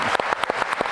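An audience applauds a panel moderator, with dense clapping in several rhythmic bursts throughout, close and steady, with no one talking.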